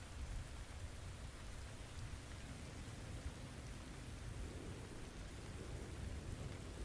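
Rain falls steadily in the video game Neither Day Nor Night, a dense, even hiss of downpour with a low rumble beneath, continuous and unbroken throughout.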